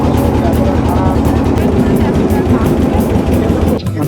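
A boat at a river ferry landing in the Sundarbans, engine droning loudly and steadily up close, with a voice talking over it before the sound dips briefly near the end.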